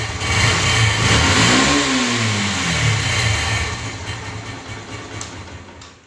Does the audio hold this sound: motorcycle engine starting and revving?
yes